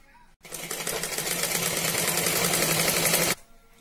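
Sewing machine running steadily for about three seconds, stitching the last panel of a box-shaped bed cover made from an old saree; a dense, continuous whirring drone, close and fairly loud, starting and stopping cleanly.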